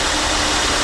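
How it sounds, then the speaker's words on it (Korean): A 2008 Hyundai Veracruz engine with 250,000 km idles close by, a steady mechanical hum with a faint whining belt noise running through it, no voices. "보니까 벨트 속에 소음이 많이 나요"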